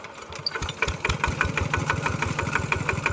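A Kubota RT90 tractor engine idles close by with a steady, rough knocking pulse, loud and continuous with no voices over it.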